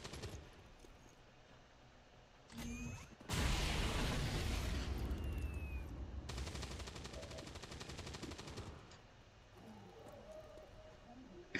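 Gunfire and a loud explosion in the video game XCOM 2: War of the Chosen, with a dense sustained blast and rattling bursts over several seconds before fading to quieter game ambience.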